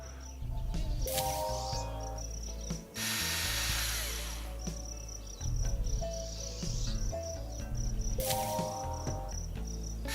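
Drilling in Zoo Simulator: Prologue, with bursts of whirring mechanical ratcheting over a steady insect-like chirping background, loud and close, with brief pauses between drill runs.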